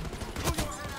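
A shotgun fires in the video game Black Ops 6, giving a quick pair of loud, booming blasts within a second over busy game noise.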